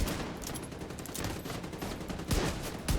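Rapid gunfire from a sniper rifle in a video game, a loud continuous barrage of shots with two sharper, heavier blasts near the end, no voices over it.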